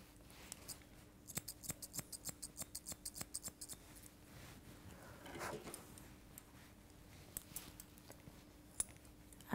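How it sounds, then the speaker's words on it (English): Scissors snip through a Labradoodle's hair during grooming, the fine hair near the eyes being trimmed: a quick run of crisp, evenly spaced clicks early on, then scattered single snips, close and fairly quiet with no talking. "Just taking care not to catch this hair underneath her eyes when you trim it."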